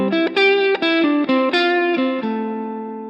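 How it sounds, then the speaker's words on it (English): Electric guitar plays a melodic solo starting in C, a string of sustained single notes with slides and bends, clean and close, ringing out at the end. "So let's say I wanted to play a nice melodic solo."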